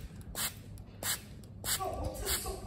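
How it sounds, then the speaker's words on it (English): Soapy water is sprayed at a cockroach in quick, close bursts from a spray bottle, about five short hissing puffs at an uneven rhythm, with faint background voices. "You just keep spraying, please. It's too much water already."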